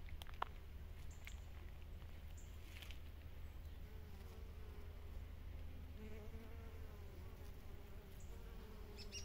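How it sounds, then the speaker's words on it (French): Steady, soft buzzing of bees and bumblebees feeding on aster flowers in a garden, with wingbeats rising and fading as insects pass near and away. "Où les abeilles et les bourdons s'en donnent à cœur joie et se régalent de leur nectar."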